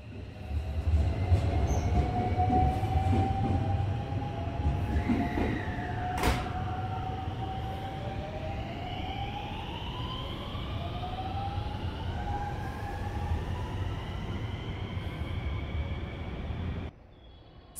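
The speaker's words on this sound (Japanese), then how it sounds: "先に快速が発車し、少し遅れて新快速が発車します。" Rapid and special rapid trains on the Tokaido Line depart one after the other from Kobe Station at night. They rumble steadily, wheels humming and rising tones sweeping up as they pull away, with the second train's hum layered behind.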